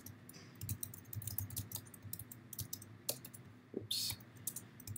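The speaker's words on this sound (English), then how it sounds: "you simply can just start typing your name" Keystrokes on a computer keyboard clatter in quick, uneven bursts while a name is entered, moderately close over a low room hum, with a short pause before a final cluster of clicks.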